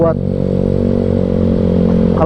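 A Yamaha Mio scooter engine with a sporty budget setup idles and runs steadily nearby, a loud, constant buzzing drone with a fairly mild, not overly aggressive tone.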